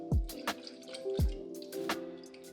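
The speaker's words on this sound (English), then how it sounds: "I'm going to add my fragrance oil." Drops of fragrance oil falling into hot melted candle wax for coffee-scented candles, giving two or three close, soft drip plinks in a quiet room.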